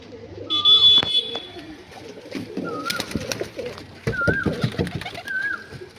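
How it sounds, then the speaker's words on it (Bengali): Pigeons coo in repeated soft, throaty phrases in a pigeon house, with a high electronic beep early on and background clatter and movement. "প্রচুর পায়রা আছে"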